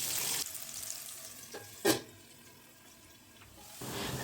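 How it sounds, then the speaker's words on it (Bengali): Potatoes, turned with turmeric powder, fry under a lid in a pan until reddish-brown: a faint, steady sizzle with a couple of soft knocks and one sharper clatter partway through. "দেখুন ঢাকা দিয়ে প্রায় 3-4 মিনিট আলুগুলোকে ভেজে নিয়েছি একেবারে লালচে করে"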